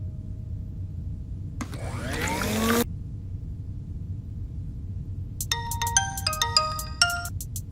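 A mobile phone ringtone rings indoors: a bright electronic swooping burst, then a quick melodic run of clear repeated tones near the end, over a steady low room hum with no talking.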